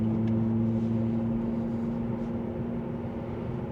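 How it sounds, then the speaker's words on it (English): A loud truck passes on the road, a steady heavy engine rumble with a low droning hum, close by and without speech. "Wow, that truck is loud."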